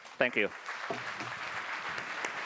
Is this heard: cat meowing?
no